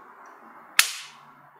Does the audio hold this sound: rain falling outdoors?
no